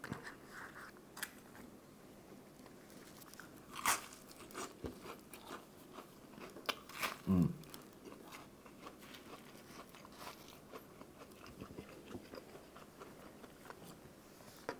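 Crunchy Korean-style tonkatsu with sauce is bitten and chewed up close, with scattered crisp crunches and a couple of louder bites over quiet, steady mastication.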